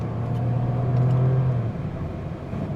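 A Toyota Taisor turbo with automatic transmission drives on a hilly test route with five adults aboard, its engine giving a steady low cabin hum and a rising whine that fades, heard from inside without talking.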